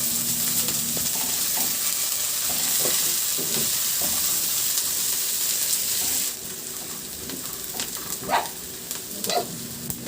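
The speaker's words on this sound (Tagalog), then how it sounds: "igisa ko na yung bawang at luya" Garlic and ginger sautéing in a pan for a fish dish, a continuous close sizzle with scattered stirring taps that quieten partway through, no voices.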